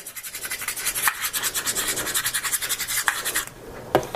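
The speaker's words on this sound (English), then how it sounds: "grab this key, get this a little bit closer, and scratch up the back just a little bit" A metal key scratches the back of an HTC One M8 phone close up: quick, rhythmic back-and-forth grating strokes for about three seconds, then a pause and one last scrape.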